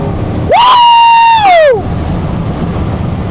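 A loud, close C8 Corvette engine revs and holds a steady high whine, then its pitch drops sharply as it downshifts, with wind rushing around it.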